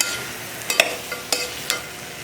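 Mutton frying in a pan while a spoon stirs it, a low continuous sizzle broken by four or five sharp scraping clicks at uneven intervals, close and fairly loud with no voices.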